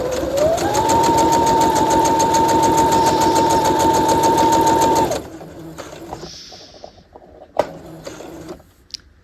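A sewing machine stitches a welt pocket on a half-scale jacket in a steady, fast, loud mechanical run for about five seconds, then stops, leaving a few quiet clicks and handling sounds.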